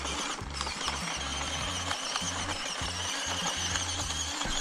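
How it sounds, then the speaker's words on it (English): A WPL C14 1/16-scale 4WD RC crawler with a transmission gear stripping its teeth: fast repeating grinding clicks and a high whine, steady and close, with no talk. "that does sound like it's a gear in the transmission"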